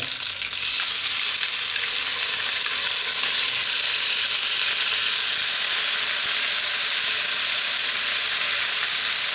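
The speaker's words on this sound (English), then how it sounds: "curry leaves, these fresh curry leaves, which can be quite noisy, so let's hold tight" Fresh curry leaves and finely chopped onion hit hot oil and erupt into a loud, dense sizzle that holds steady and close for the whole stretch, with no one talking.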